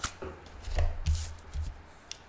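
Playing cards are shuffled in several soft, papery bursts with short pauses between them, close and fairly quiet, with no one speaking.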